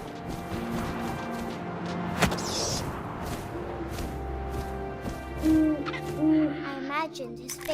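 An owl hoots in the What Remains of Edith Finch video game, several clear, resonant hoots rising over wind and ambient game sounds, with a thud partway through.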